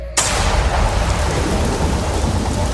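Heavy downpour with rumbling thunder, a radio drama storm effect, starts abruptly and stays loud and steady throughout with no talk.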